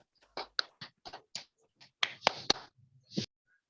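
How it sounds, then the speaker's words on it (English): Students in a classroom clapping for themselves in a scattered run of separate claps, each sharp and close, with a few louder claps near the end. "Clap for yourself."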